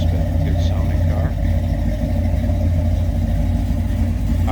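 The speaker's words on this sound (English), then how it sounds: "A little rumble coming out of that 350." A 1956 Chevrolet 210 two-door Handyman wagon with a 350 V8 idles with a steady low rumble, mild rather than loud, close by and continuous throughout with no revving.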